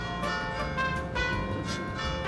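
Church bells ring outside with steady, overlapping strikes, a full resonant peal that carries on without pause, fairly loud and reverberant.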